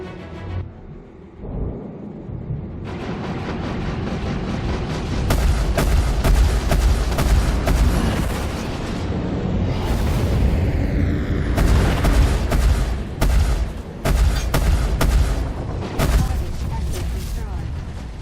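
Star Citizen space combat with missile launches and gunfire, heavy booming blasts and rapid bursts of firing rolling over a low rumble, loud and dense throughout.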